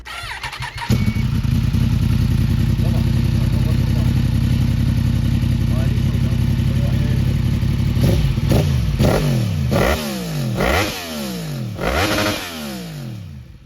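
A modified Yamaha MT-10 with a Stage 1 tune and aftermarket exhaust fires up and idles loudly and steadily at close range, then rises into a series of sharp, deep revs in the final seconds. Voices talk over the idle.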